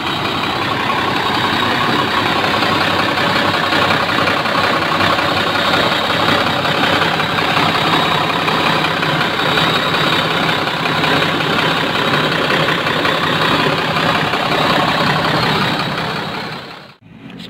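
A bus with an electric 1521 engine idles steadily in a garage during repair, a loud, continuous, close rumble that holds evenly before cutting off abruptly near the end.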